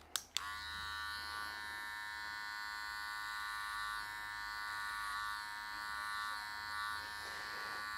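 Electric hair clipper fitted with a 1.5 guard cutting hair during a two block haircut, switching on with a couple of clicks then a steady close buzzing hum that shifts slightly as it moves through hair.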